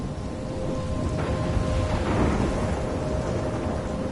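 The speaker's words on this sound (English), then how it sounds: "I'm trapped in a storm?" A thunderstorm from the game Life is Strange: rain hisses steadily while a low thunder rumble swells around the middle and fades, fairly loud, with no one talking.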